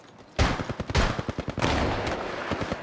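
Rapid bursts of gunfire from the Apex Legends Mobile video game crack out in quick succession, loud and sharp, with a second flurry of shots following a brief pause.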